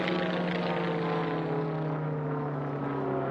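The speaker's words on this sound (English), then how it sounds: "you can see Paul Newman's beautiful airplane." A Formula 1 class racing airplane drones past at an air race, its propeller engine a steady, loud buzzing hum that holds constant with a slight shift in pitch as it passes.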